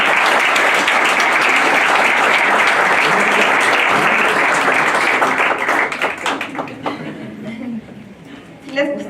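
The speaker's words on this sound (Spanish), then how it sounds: "Un aplauso, por favor." A ceremony audience gives a loud, sustained round of applause that thins into scattered claps toward the end, with some voices mixed in.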